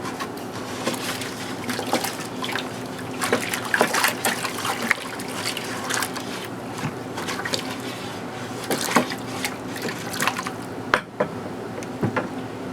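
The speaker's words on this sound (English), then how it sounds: "you can give it a stir. That's what I have the stick for, so that I can stir it all up" Homemade liquid laundry soap is stirred with a stick, giving a continuous sloshing, trickling liquid sound with small splashes, close and moderately loud.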